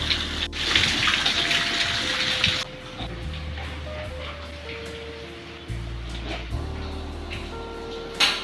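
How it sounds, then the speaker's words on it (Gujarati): Heavy monsoon rainwater gushes and pours as it drains away, a loud continuous rushing flow that drops to a softer trickle partway through and then rises again. "જોઈ શકો છો કે પાણી આ રીતના જાય."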